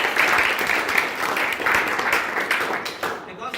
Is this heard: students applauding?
yes